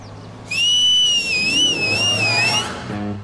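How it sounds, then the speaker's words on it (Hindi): A whistle is blown to try to stop a bus, giving one loud, sustained, wavering high tone for about two seconds over faint background noise. "मेरे इतना चिल्लाने से बस नहीं रुकी तो तेरे सीटी बजाने से क्या रुक जाएगी?"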